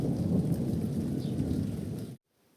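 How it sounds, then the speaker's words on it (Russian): Steady rain pours outside in a rural village, a dense, even hiss with a low rumbling undertone that runs loud and constant, then cuts off abruptly into near silence. "Дождь все так же шел аж до следующего утра."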